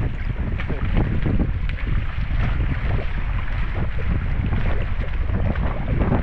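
Strong wind rushes across the microphone at sea near an abandoned fishpond, a loud, continuous low roar with gusty rumble and a faint higher whistle throughout, no clear talk.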